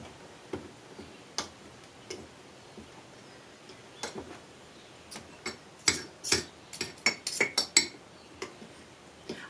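Ingredients being cut into a homemade baking mix in a bowl by hand, producing soft scattered ticks and scrapes of a utensil against the bowl that grow denser and sharper toward the end, with no voices.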